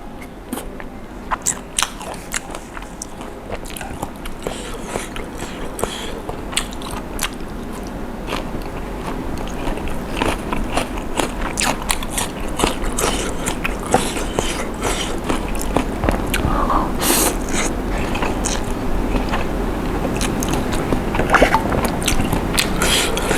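Crunchy bites and steady chewing of spicy Thai instant noodle salad with shrimp, close and continuous, with a few sharp crackles throughout.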